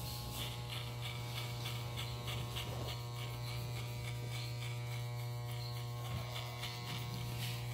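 Electric hair clipper fitted with a number 1 comb guard buzzes steadily at close range while cutting a client's hair in a fade, a constant motor hum with faint crackling of clipped strands.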